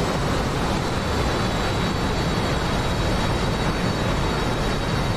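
A MiG-21 jet roars through a takeoff in DCS World on the Marianas map, a loud, steady, broadband engine blast with a thin high whine running throughout, unbroken for several seconds.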